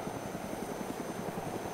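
Helicopter flying in the survival video game DayZ, a steady rotor drone with rhythmic chopping pulses, loud and continuous throughout.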